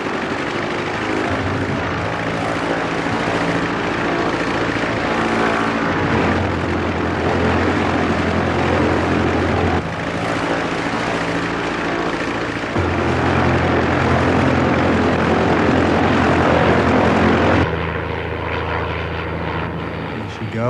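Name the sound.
aircraft engine at full power during a dive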